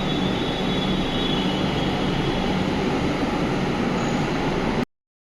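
An almost empty train at a station gives a loud, continuous rumble and rattle that holds steady, then cuts off abruptly.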